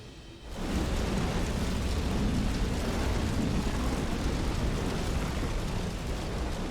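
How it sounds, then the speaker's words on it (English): A video game explosion in Xenoblade Chronicles 3 bursts in suddenly, then holds as a loud, dense, continuous roar and rumble with no voices over it. "Now that was an explosion"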